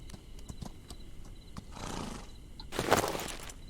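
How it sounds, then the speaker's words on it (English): A Mustang or quarter horse in the Outlaws of the Old West video game snorts and whinnies in two close bursts after a few soft hoof clops, with no talking. "We've got a Mustang or a quarter horse."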